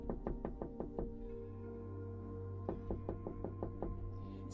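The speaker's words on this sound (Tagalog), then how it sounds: "sunod-sunod na ang pagkatok sa kanyang pinto" Knuckles rap on a door in two quick bursts of about five to six knocks each, separated by a short pause, close and crisp over a low steady hum.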